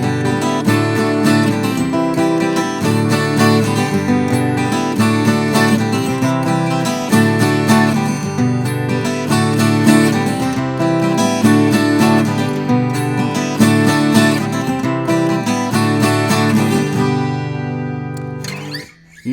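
A steady strummed guitar rhythm with an African rumba feel over backing music, loud and continuous, ending abruptly.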